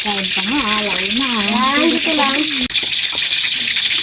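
Steady loud sizzling of food frying in a pan, with a voice talking over it throughout and a brief clatter near the middle.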